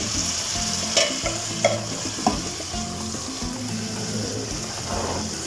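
Chickpeas tipped into a bubbling tomato and chorizo stew and stirred, a steady sizzle and simmer running throughout with a few soft knocks of the spoon against the pan.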